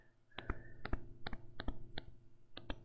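A Surface Pro pen tapping and writing on the tablet's screen makes about a dozen sharp, close, irregular clicks and taps, quiet and with no one talking.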